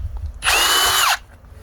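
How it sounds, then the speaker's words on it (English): A power drill bores a hole in a car-part workpiece: one loud, close whine lasting under a second, with its pitch sliding down as it ends, and no one speaking. "I'm going to drill a couple of holes."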